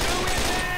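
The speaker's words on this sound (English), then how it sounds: "I'm gonna set off the fireworks on my side." Rapid crackling bursts of fireworks set off in Left 4 Dead 2 on the Dark Carnival map, a dense, continuous popping barrage for under a second with no speech over it.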